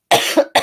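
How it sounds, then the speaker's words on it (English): A close, loud cough in two quick bursts, harsh and raspy, with brief silence before and between. "I'm getting all raspy and coughing."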